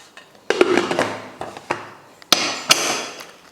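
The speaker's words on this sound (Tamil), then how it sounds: "குக்கர் மூடி போட்டுடலாம்" A metal pressure-cooker lid is set onto the cooker while brinjal chutney is being prepared, giving several sharp, close clanks and knocks spaced irregularly through a quiet kitchen.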